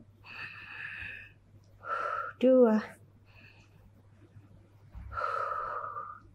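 During a hamstring stretch in a pre-run warm-up, a person takes audible breaths in and out, with a sharp gasping inhale between soft spoken counts.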